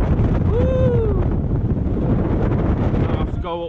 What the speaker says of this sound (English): Oh, it's windy around this bit.